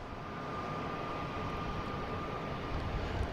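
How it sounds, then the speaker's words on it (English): A JetBlue airliner takes off at Boston Logan International Airport, a steady broad engine roar with a faint whine that holds constant and builds slightly toward the end. "We got a JetBlue taking off to unknown locations."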